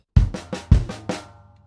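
Drum kit playing a short Grade 3 rock pattern, with toms and bass drum on the downbeats: five or six sharp, close hits in an uneven rhythm, the last ringing out, with no talking.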